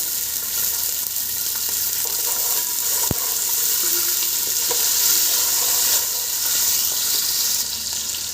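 Cashews, garam masala spices and green peas fry in hot oil with a steady, close sizzle and a single sharp clink partway through, and no talking.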